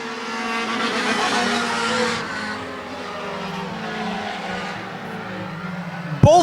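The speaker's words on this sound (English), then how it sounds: "Both cars drifting through turn 1. Zach Audet and Shane Weber sliding sideways" Race cars drift sideways through a turn on a concrete track, engines droning loudly and tires squealing in long sustained slides, with a sharp louder burst at the very end.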